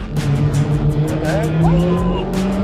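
A Mercedes C111 sports car driven on a private airstrip, its engine droning steadily up close with brief tire squeals and faint voices underneath.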